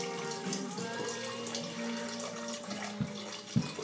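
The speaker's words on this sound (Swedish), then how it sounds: "Som vanligt låter som pappa häller av potatisen." Hot water from a pot of boiled potatoes being poured off into a sink, a steady close rushing splash with no pauses and a couple of brief sharper splashes near the end.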